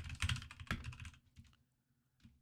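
Typing on a computer keyboard to enter a command, a quick close burst of key clicks that slows to a few isolated taps and then trails off.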